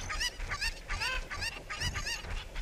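Cucco chickens in the video game Zelda: Ocarina of Time give a rapid string of harsh, honking cluck-squawks that repeat in bursts across the whole stretch, fairly loud and close, with no talking.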